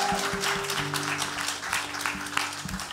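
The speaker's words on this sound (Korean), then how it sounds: "박수하겠습니다" A church congregation at a Sunday worship service in Toegyewon applauds after singing happy birthday to the church, steady moderate clapping over a faint sustained organ or keyboard tone.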